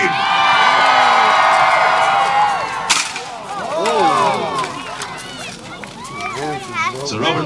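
A crowd at a medieval jousting fair screams and cheers loudly, with high children's shrieks and whoops swelling, then breaking into scattered excited yells.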